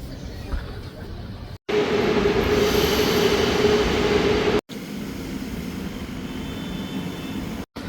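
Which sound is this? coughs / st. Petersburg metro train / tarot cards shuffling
st. Petersburg metro train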